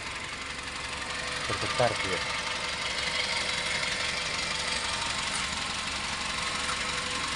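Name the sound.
vibrating Suzuki Airio petrol engine idling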